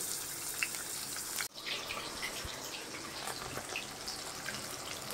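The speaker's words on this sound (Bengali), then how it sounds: "চিংড়ি মাছগুলোকে একটু ফ্রাই করতে দিয়ে দেব" Salted, turmeric-coated prawns fry in mustard oil with a continuous, fairly quiet hissing sizzle that jumps sharply as they drop into the pan early on, then keeps crackling on, with no speech.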